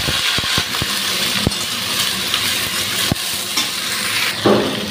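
Vegetables stir-fried with panch phoron spices sizzle steadily in a pan while a spatula scrapes and clacks in sharp, irregular knocks, several early on and a few later; no one speaks.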